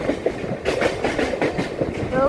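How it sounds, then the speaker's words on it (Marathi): A Mumbai slow local train on the CSMT to Vashi run gathers speed, its steady rumble and repeated wheel clatter filling the ride close up, with faint voices in the background. "आपल्या ट्रेनने ॲक्सेलरेशन घ्यायला चालू केला."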